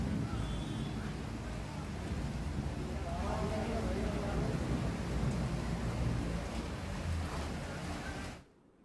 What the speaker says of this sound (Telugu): ఒక్కసారిగా వర్షం కురవడంతో అంతా చల్లబడింది